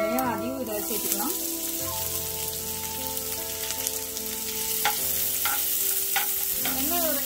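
Onion, ginger and green chilli fry in hot oil for a potato bonda filling, giving a steady close sizzle with occasional spatula stirs and scrapes, with background music playing throughout.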